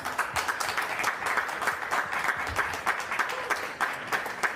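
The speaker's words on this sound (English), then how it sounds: "Let's get one last round of applause here for all the players at the final table" Applause for the players at a poker tournament final table in Monte Carlo, a sustained crowd clapping with even, dense texture, moderately distant and continuous throughout.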